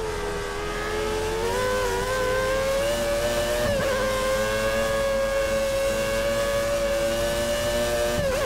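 Formula 1 car engine in the F1 2013 racing game at Catalunya, a loud sustained high-pitched whine holding steady with a brief dip and shift near the middle, continuous throughout with no talk.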